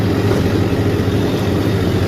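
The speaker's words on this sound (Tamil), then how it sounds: "டிராக்டரோட இன்ஜின் சத்தம்" A steady, loud engine drone runs continuously without a break, the low rumble of a tractor idling up close.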